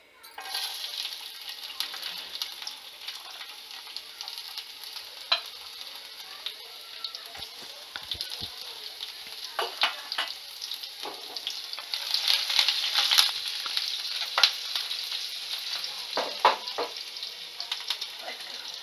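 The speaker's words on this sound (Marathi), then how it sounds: "आता त्यामध्ये मिरची, अद्रक आणि लसूण टाकणार आहोत फोडणीसाठी" Steady bright sizzling of chilli, ginger and garlic frying in hot oil, continuous throughout, with intermittent clinks and scraping of a spoon stirring the pan.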